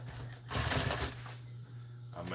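Sewing machine stitching car seat upholstery with heavy thread, the bobbin case unadjusted so the top thread keeps breaking; a close, steady mechanical whir with a burst of louder stitching, running under a low hum and some speech.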